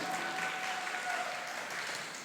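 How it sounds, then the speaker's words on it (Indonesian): A church congregation claps in steady, even applause filling the room, dense and unbroken from start to finish with no talk over it. "Tepuk tangan lagi untuk umat ini."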